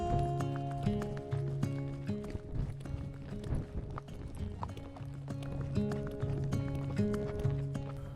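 Delta horses move across an Italian horse and cattle farm, their hooves tapping in uneven clip-clop bursts at a moderate distance, layered with steady background music.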